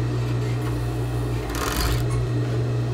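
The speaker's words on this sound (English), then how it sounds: "then we're just going to sew our side seam" Sewing machine running a side seam on a garment, a loud steady mechanical hum with a fast rapid stitching chatter that surges briefly louder midway before settling back.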